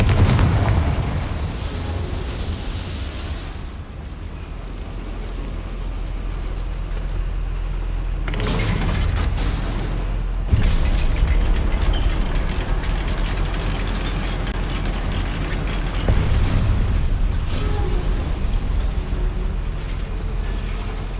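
Confringo blasting spell detonating in the Hogwarts Legacy video game inside a goblin mine: loud booming blasts, with a sharp burst near 8 seconds and another at 10.5, over a rumbling low drone.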